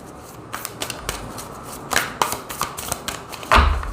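Tarot cards being shuffled by hand, with a run of soft riffling flicks and papery slaps spread across a few seconds, closer and louder toward the end, with no talking.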